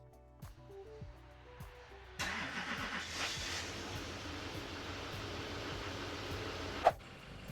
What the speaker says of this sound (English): Now let's start the truck and make sure there are no leaks.